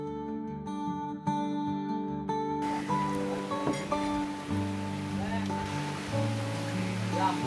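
A stream flows through Mae Kampong village, a steady wash of running water that swells after the first few seconds, with a voice and other tonal sounds over it.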